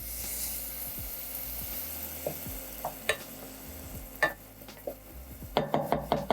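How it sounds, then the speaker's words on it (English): Garlic sizzles in a pan with a soft steady hiss as crushed Cento canned tomatoes go in, with scattered clinks and knocks of a utensil against the pan and a flurry of taps at the end. "I'm gonna add the tomatoes, which is gonna stop the browning process of the garlic"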